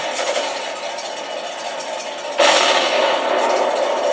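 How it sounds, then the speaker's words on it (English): A toy tank's sound unit on a bench test plays a steady mechanical rattle, then jumps louder at about the midpoint into a harsher, buzzing machine-gun sound effect, close and continuous. "Machine gun."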